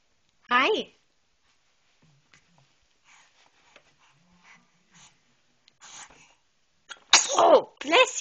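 A baby sneezes close by at the start and again near the end, with soft sniffs, rustling and faint baby vocal sounds in between.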